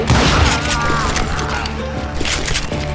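Gunfire from hired guns in Call of Juarez: Gunslinger, a dense burst of loud close shots and booms at the start, then scattered gunfire and clattering game effects throughout.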